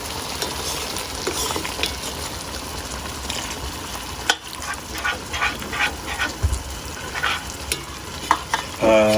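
Cajun smothered meatballs sizzle in a hot pan on high heat while a spoon stirs and scrapes the sides in steady, repeated strokes, with a dog barking briefly in the background.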